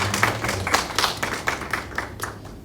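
A youth congregation at a Sunday church service claps for its teachers: a steady, evenly paced run of clapping, moderately close, with no voices.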